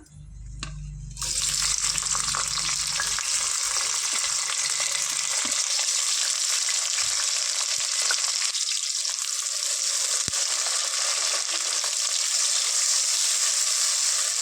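Two large onions and about ten green chillies hit hot oil with a sudden burst, then fry in a loud, steady, close hiss with a few scattered stirring knocks, for a Telangana-style mutton gravy curry. No one speaks.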